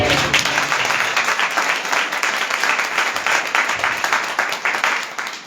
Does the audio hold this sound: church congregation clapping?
yes